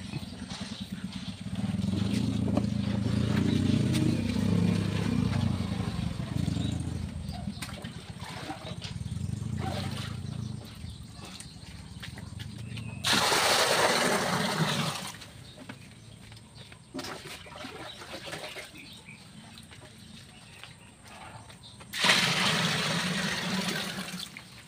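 Water gushes steadily into a Sharp automatic washing machine tub as it fills, a continuous rushing flow with a couple of brighter, harder surges partway through; no one speaks.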